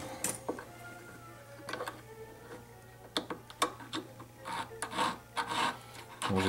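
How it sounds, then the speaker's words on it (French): A hand file rasps a flat spot onto a metal rivet pin for jewelry making, close and uneven strokes that grow louder and more rapid toward the end, over a faint steady hum. "Donc, je vais couper et je vais limer un plat."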